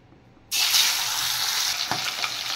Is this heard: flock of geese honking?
no